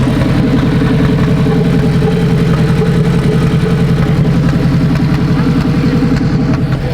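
A stock Honda K20 engine with a turbo runs in a car, a loud, close, steady rumbling idle that holds without change throughout and is not joined by talk.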